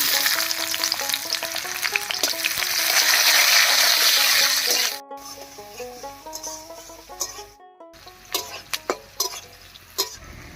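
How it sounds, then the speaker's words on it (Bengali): Chopped onion hits hot mustard oil in a heated wok with a loud, hissing sizzle that fades to a quieter crackle, then sharp metallic scrapes and taps of stirring follow. "এই তেলের মধ্যেই দেব পেঁয়াজ কুচি"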